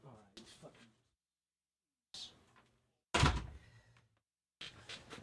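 A door thuds shut indoors, one solid slam amid a few shorter knocks and bumps, with someone talking in between and dogs nearby.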